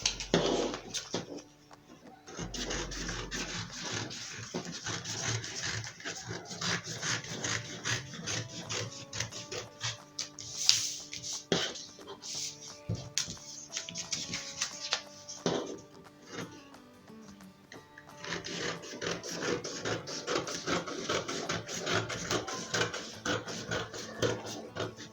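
Fabric being cut with scissors for a high-low peplum skirt with an uneven hem, giving steady rubbing and snipping strokes close up, with a brief pause partway through and no talking.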